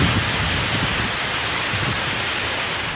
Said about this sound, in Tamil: வேலூர் மாவட்டத்தில் காட்பாடி, சத்துவாச்சாரி, லத்தேரி, அணைக்கட்டு உள்ளிட்ட பகுதிகளில் பலத்த காற்றுடன் கனமழை பெய்தது.